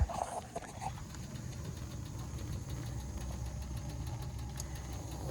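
A 38-year-old antique Tappan gas furnace in an unsafe condition, its blower starting with a steady low rumbling hum that holds evenly throughout, near and moderately loud, with no voices.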